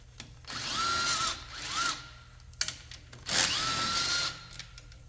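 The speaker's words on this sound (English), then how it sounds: "now we can start taking these screws out. They're 8mm." A power drill or impact driver backs out 8mm screws in a car engine bay, with several whirring bursts of about a second each, separated by short pauses and a few light clicks and clatters, heard close up.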